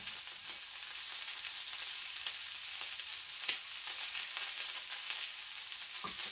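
Cinnamon waffles cooking, a steady bright sizzle of batter frying in a waffle iron, constant and close throughout with faint occasional ticks and no talking.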